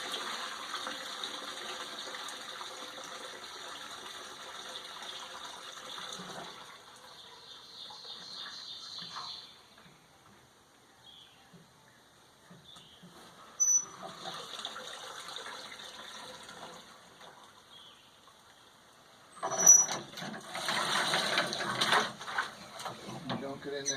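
A mesh grain bag is lifted out of 170-degree mash water in a home beer-brewing kettle, with a pouring gush and trickling water that fades, then a louder burst of splashing and running water near the end.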